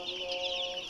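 Chickens on a poultry farm cluck in a dense, steady chorus of overlapping calls that fill the whole second at an even level.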